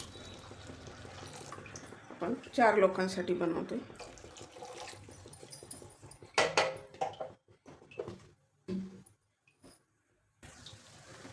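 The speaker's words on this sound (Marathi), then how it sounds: "अजून पाणी घालायचं थोडं" Water pours into a pot of pumpkin soup on the stove in a short splashing burst, followed by softer trickles and drips, while a person speaks over and between the pours.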